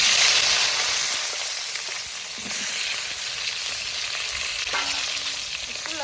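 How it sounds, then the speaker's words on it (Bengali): Eggplant pieces sizzle steadily in hot oil left from frying eggs, with a bright, continuous frying hiss and occasional stirring clinks. "ডিম ভাজা তেলের মধ্যে বেগুনগুলো ভেজে নেব"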